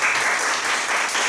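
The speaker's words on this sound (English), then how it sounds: "let's give a warm applause to Dr. David Ryder." A crowd applauds a speaker being introduced at a talk, with dense, loud and steady clapping throughout.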